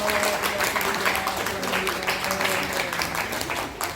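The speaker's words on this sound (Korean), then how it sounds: "박수 한번 쳐주세요." A church conference audience at a pastors' summer retreat in Yeosu claps, a dense, sustained wash of applause lasting throughout, with a voice faintly mixed in.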